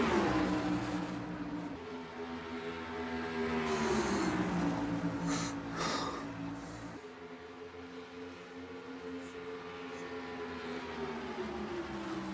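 Race cars running four wide down the back stretch at Charlotte in a RUSH series race, a continuous engine roar that rises and falls as the pack passes, with no talking.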